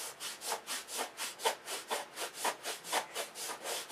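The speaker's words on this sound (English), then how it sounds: "We're sanding around the beam of the fuselage, sanding an airfoil into it." Wooden aircraft fuselage being hand sanded with coarse sandpaper around the beam: quiet, close, rhythmic back-and-forth scrapes, about four strokes per second, with no voices.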